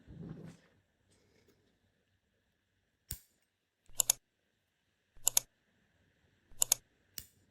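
Scissors snip the cord of a crystal wrapped keychain: about five sharp, quiet clicks spaced a second or so apart, with near silence between them and no talking.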